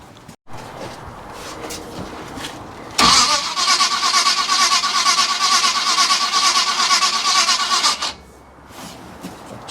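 A car engine's starter motor cranks loudly and steadily for about five seconds without the engine catching, then cuts off abruptly, leaving a quieter background; the starter may need shimming and the coil may lack power.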